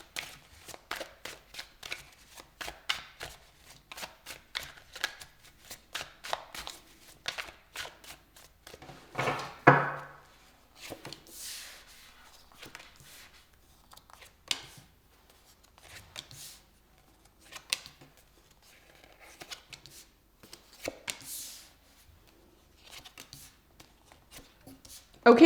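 Tarot cards are shuffled by hand for a reading: quick, crisp riffling and sliding bursts come in irregular clusters, close and fairly quiet, with brief pauses between handfuls.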